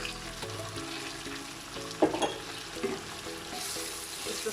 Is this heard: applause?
no